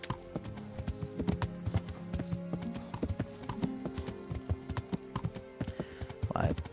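Rhythmic clip-clop of a horse's hooves in the medieval video game Kingdom Come: Deliverance, steady close footfalls with a brief whinny near the end, someone talking over them at times.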